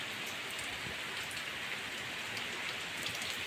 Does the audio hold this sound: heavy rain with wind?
yes